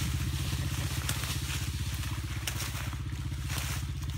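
Small Honda CRF70 dirt bike engine pulling uphill, a steady close putter with a fast regular pulse that runs unbroken for the whole stretch, loud and without talk.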